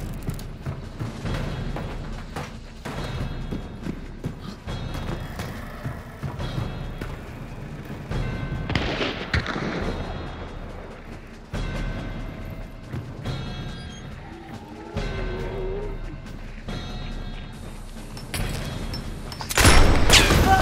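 Gunfire in the multiplayer shooter Hunt: Showdown, with scattered shots and mechanical clicks and creaks spread through a tense stretch of play, and a louder burst near the end.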